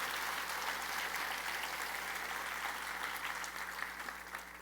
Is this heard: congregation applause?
yes